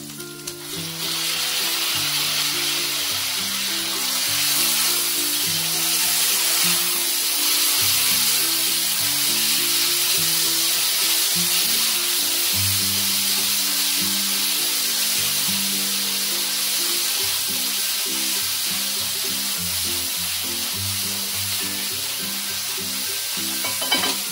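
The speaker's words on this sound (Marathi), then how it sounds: "कांदा आपला असा पूर्णपणे ब्राऊन झाला आहे, तरी त्यामध्ये आता आपण टोमॅटो टाकू।" Tomatoes hiss and sizzle loudly in a pan over fully browned onions for Marathi egg rice, a continuous close frying crackle with intermittent stirring scrapes and no voices.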